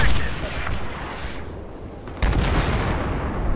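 Airburst explosions and gunfire in the video game Battlefield 4, a loud blast at the start and another sharp burst about two seconds in, with rumbling booms and crackling in between.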